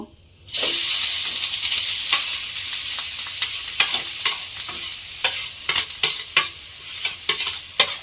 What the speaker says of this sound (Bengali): দিয়ে এবারে খুব ভালোভাবে ঘিয়ের সঙ্গে একটু নেড়ে ভাজা ভাজা মতো করে নিতে হবে।